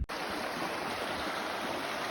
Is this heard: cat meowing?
no